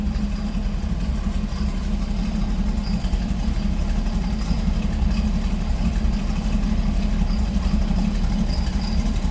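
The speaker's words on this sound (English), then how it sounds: "A little rumble coming out of that big block." A 1968 Chevrolet Camaro convertible with a 427 big block V8 idles steadily, a continuous deep low rumble from the exhaust heard close and without talk.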